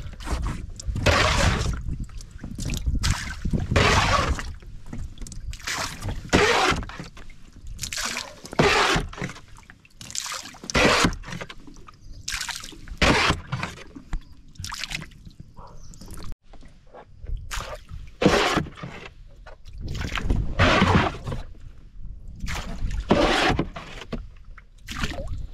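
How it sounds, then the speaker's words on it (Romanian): Water scooped and splashed out of a small boat in the Danube Delta, with repeated bursts of sloshing and pouring at an irregular rhythm, fairly close and alone. "Imediat după ce scot apa asta din barcă"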